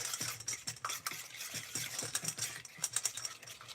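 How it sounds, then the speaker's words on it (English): A spoon stirs banana muffin batter sweetened with thick molasses in a bowl, making a quick, soft, steady scraping and tapping rhythm, close and fairly quiet, with no talking. "All right, just stir that all together."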